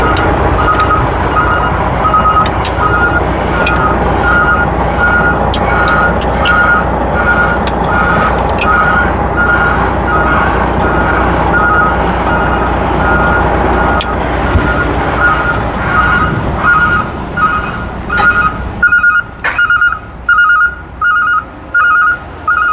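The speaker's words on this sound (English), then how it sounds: "you're gonna hear the garbage trucks behind us" Garbage trucks reversing nearby, their backup alarms sounding a steady run of evenly spaced beeps through loud, constant truck engine rumble and road noise, with the engine drone dropping away near the end.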